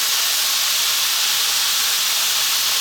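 Chicken and vegetable stir fry with light soy sauce tossed in a hot pan, heard as a loud, steady, broad sizzling hiss filling the whole moment without break or speech.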